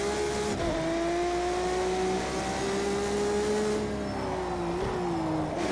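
A Ferrari Enzo in Project CARS 2 holds a loud, steady engine note that climbs slowly in pitch, dips briefly near the end, then rises again.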